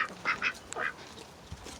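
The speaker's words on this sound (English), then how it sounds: "look at this mallard duck" A domesticated mallard drake quacks several times in quick succession, loud and close, followed by a softer call and a brief low quack near the end.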